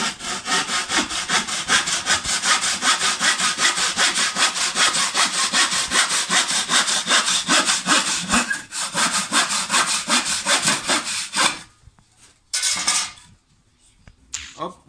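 Hand saw cutting through wood while making a wooden owl, steady rapid back-and-forth strokes for about twelve seconds, then a pause, a short burst of sawing and scraping, and quiet at the end.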